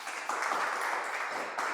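An audience applauds at a church art presentation in Écija, with a continuous, close burst of many hands clapping that swells slightly after the opening and holds steady to the end.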